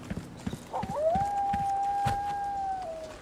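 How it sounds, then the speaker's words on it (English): A dog howls once in Resident Evil 4 Remake, a long, sustained, wavering tone rising out of ambient game noise and footsteps, heard at a moderate distance. "I just heard a dog howl."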